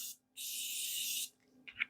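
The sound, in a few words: makeup setting spray sprayed on face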